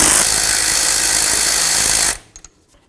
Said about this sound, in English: we're going to remove these 7mm Allen head bolts that hold the sliders